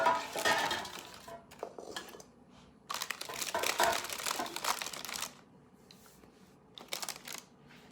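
Metal loaf pans clatter and scrape across a kitchen counter in two clustered bursts, close and fairly loud, with a lighter clink near the end; no one talks.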